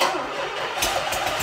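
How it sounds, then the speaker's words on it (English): A DeLorean's engine, restarted after old gas was cleaned out and running with a large exhaust leak, catches and runs with a rough, loud idle and sharp pulses near the end. "It's running! We got a massive exhaust leak, but it's running!"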